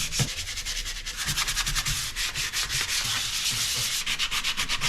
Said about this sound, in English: all done sanding